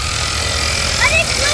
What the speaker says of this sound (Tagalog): Medyo maingay lang yung time belt